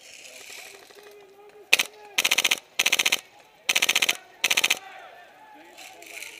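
A minigun on a technical vehicle fires during an airsoft scenario battle at a marketplace roadblock, in five rapid buzzing bursts, loud and close, with faint background noise between them.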